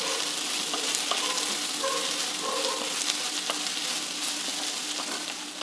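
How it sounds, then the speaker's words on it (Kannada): Onions fry with a pinch of salt in a pan for a dosa recipe, making a loud, even, continuous sizzle up close with faint stirring clicks and no talk. "ಈರುಳ್ಳಿ ಚೆನ್ನಾಗಿ ಫ್ರೈ ಆಗುತ್ತೆ ಉಪ್ಪು ಹಾಕೋದ್ರಿಂದ."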